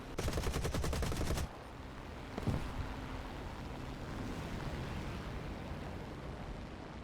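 Rifle-calibre machine guns of a Spitfire Mk Vb firing in a video game, a loud dense rapid burst for about a second and a half, then a short later burst over steady engine and wind roar.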